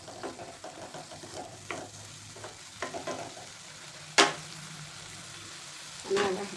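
Dingri (mushroom-like) vegetable added to a spice mix in a pan and stirred, giving scattered soft stirring scrapes and light frying sizzle, with a sharp clank of the spoon against the pan and another knock near the end.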